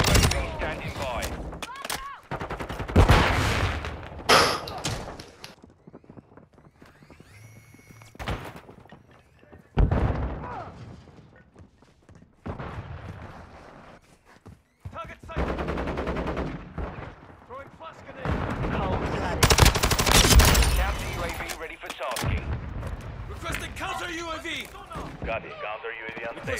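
Modern Warfare 2 gunfire crackles in repeated bursts and volleys, loud and close, mixed with thuds and impacts while voices talk over the action throughout.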